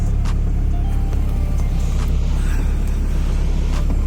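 A car runs in first gear after a B16 transmission rebuild, with a loud, steady low engine drone and faint ticks over it.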